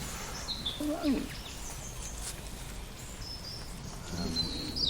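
A mistle thrush sings outdoors at evening, short fluting phrases at a moderate distance, while people talk quietly nearby.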